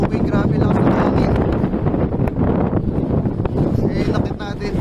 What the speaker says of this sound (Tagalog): grabe lang sa hangin